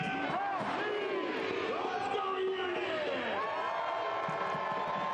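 Stadium crowd noise at a Monterey Bay F.C. versus Miami FC soccer match, a steady roar of many voices rising and falling in sustained chants throughout, with commentary voices over it.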